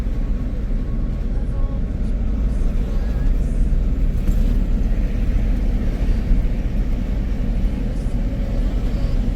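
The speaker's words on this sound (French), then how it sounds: "On croise tous ces camions" Heavy trucks rumbling past on a mountain road in Peru, a steady loud low drone of engines and tyres throughout, with traffic noise filling the whole stretch and no break.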